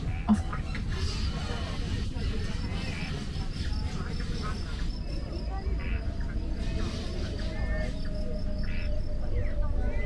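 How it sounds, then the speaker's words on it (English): Steady chorus of crickets trilling in the background at Singapore's Night Safari, with a dense, continuous low rumble and faint high tones throughout. "All set against a chorus of crickets."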